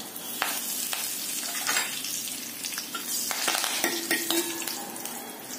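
Dried red chillies and crushed curry leaves crackle and sizzle in hot oil for a tomato rasam tempering, a steady close frying hiss with a few sharp pops and light stirring, no voices.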